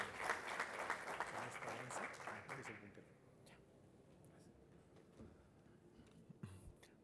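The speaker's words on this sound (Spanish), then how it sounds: "Recibamos con un fuerte aplauso al presidente del directorio de CEDAPAL" Audience applause for the CEDAPAL board president at a construction forum, a dense burst of clapping for about three seconds that thins into scattered claps and room murmur.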